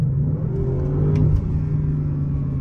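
A dream sports car's engine roars loudly up close, a deep, steady rumble with a rising rev swell near the middle and no talking.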